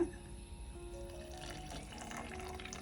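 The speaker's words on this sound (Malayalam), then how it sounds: "കുറച്ച് വെള്ളം ഒഴിച്ചു കൊടുക്കുകയാണ്" Water pours steadily for a few seconds with a soft continuous splashing, fairly quiet, with no voices.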